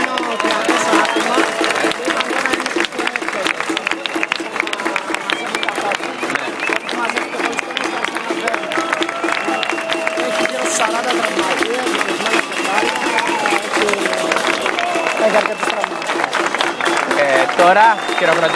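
A dense crowd at an Indignados protest applauds steadily, rapid clapping filling the whole stretch with a continuous roar, mixed with scattered voices and cheers from the gathering.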